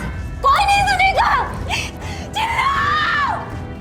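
A woman screams in a TV crime drama, two long, high, wavering shrieks close and loud, separated by a brief gasping break.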